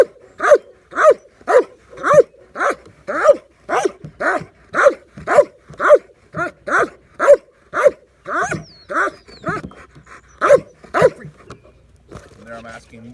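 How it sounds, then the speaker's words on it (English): A working dog in bark training gives a long run of about twenty loud, close barks in a steady, even cadence, slowing and breaking up briefly toward the end. "there I'm asking more and more and more barking"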